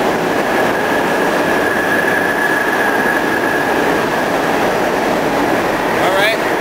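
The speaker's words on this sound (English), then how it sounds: "R46R train." An R46 subway train rumbles loudly and steadily through a station, a high metallic whine running through it and a brief wheel squeal at the end.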